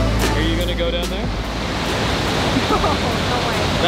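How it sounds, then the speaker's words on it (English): Loud, steady roar of rushing water from a powerful waterfall in the Canadian Rocky Mountains, broad and constant, with faint wind and a brief voice in the background. "Look at the sheer power. The water is flowing over the edge."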